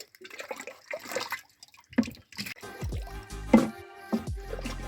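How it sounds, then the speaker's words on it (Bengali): Pond water scooped with a mug and poured into a bucket, making sloshing splashes and gurgling pours in a few uneven bursts, close and moderately loud with no speech over it. "বালতিতে তুলে নিচ্ছি একটা মগে করে এভাবে"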